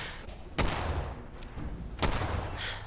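Two sharp, loud rifle shots from a Fallout 4 firefight, about a second and a half apart, with a steady low background rumble between them and no voices.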